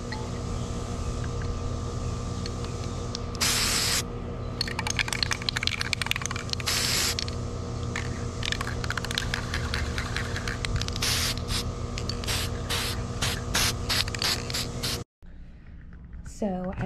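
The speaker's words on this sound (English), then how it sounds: "So we're gonna spray paint this gold." Gold spray paint hisses onto a paper mache flame for a Statue of Liberty costume, in several short bursts and a run of quick sprays over a steady background hum, with a voice heard at times.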